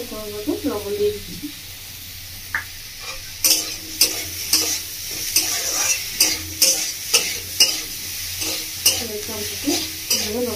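Raw mango chutney stirred in a pan with salt mixed in, a spoon scraping in a steady run of distinct strokes over a soft sizzle, fairly close and clear.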